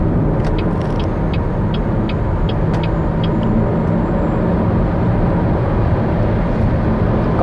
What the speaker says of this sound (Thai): ตอนนี้เราอยู่ที่โหมด normal นะครับเราจะลองเร่งแซงดู